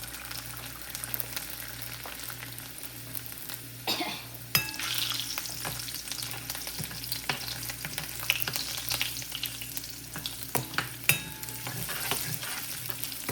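Garlic sizzles in hot oil in a pan, a steady close crackling hiss with occasional scraping stirs and a brief clatter partway through, no talk.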